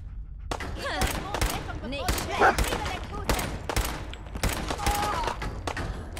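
Gunfire from the video game Fallout 4 crackles in rapid overlapping bursts of shots, fairly loud and continuous, with a voice talking briefly between them.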